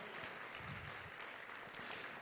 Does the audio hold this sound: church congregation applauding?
yes